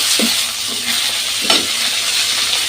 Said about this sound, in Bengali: এই যে আমি রুই মাছ ভেজে নিচ্ছি